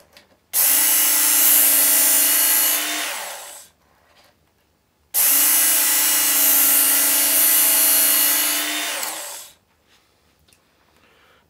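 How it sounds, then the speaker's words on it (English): A Work Sharp knife and tool sharpener grinds a blade in two loud, steady bursts of a few seconds each, separated by a short quiet pause. "you want to turn off the machine when this point gets about halfway through to the end"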